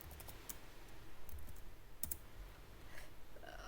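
Quiet computer keyboard typing Python code: scattered light key clicks with a few sharper taps, over a low background hum and no voices.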